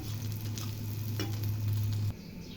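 Eggs frying in a pan for four people, giving a close, steady sizzle with a few light stirring scrapes, cut off abruptly near the end.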